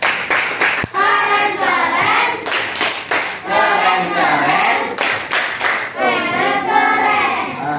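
Classroom "tepuk keren" clapping routine in a school maths lesson: children clap in rhythmic patterned bursts while chanting together in sing-song voices, loud and close throughout.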